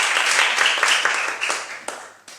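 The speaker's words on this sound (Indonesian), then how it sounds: "Berikan tepuk tangan yang meriah untuk Tuhan Yesus." A church congregation claps in a short burst of applause that gradually fades out over a couple of seconds.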